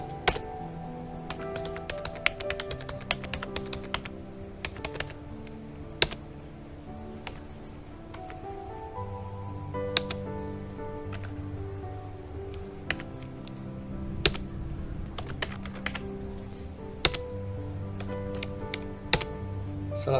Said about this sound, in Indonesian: Kita ketikkan untuk nama poolnya misalnya RPL.